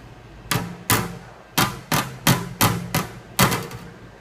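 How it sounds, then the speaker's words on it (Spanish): A double-layer PCB is rapped against a hard surface, giving about eight sharp, close knocks in an uneven rhythm, some paired, each with a short ringing tail and no talking. "Podemos dar golpes a la placa sobre alguna superficie para retirarles un poco."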